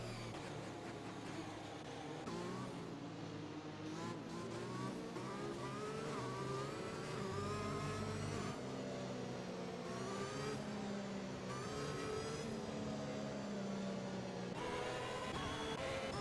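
A Formula 1 race car engine in the F1 2021 video game at the British Grand Prix, a continuous high-pitched whine rising and falling through gear changes, steady and unbroken with no talking.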